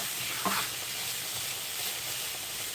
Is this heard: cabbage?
yes